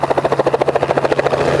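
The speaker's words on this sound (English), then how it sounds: "This is the first time I've ever been in a helicopter, actually." Helicopter in flight heard from inside the cabin, a loud, fast, even rotor chop beating about fifteen times a second over a steady engine hum.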